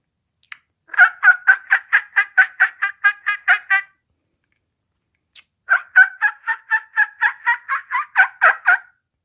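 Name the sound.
turkey call imitating turkey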